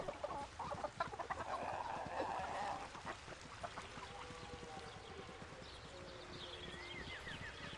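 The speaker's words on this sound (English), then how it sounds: "Why do you have all these chickens?" Chickens in a farmyard scene from the video game Baldur's Gate II cluck and squawk softly in a scattered, irregular rhythm, with faint higher chirps layered over quiet background ambience.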